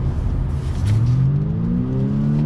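A 2020 Honda Insight hybrid's engine revs up smoothly in sport mode, its deep tone rising in pitch as it accelerates, loud and close with no talking.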